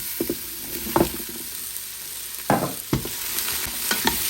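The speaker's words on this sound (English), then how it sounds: "Give it a good stir." Vegetables and onion being stirred in an Instant Pot for chicken stock, with a few distinct scraping knocks of the spoon against the pot spread over a soft continuous sizzle, close and fairly quiet.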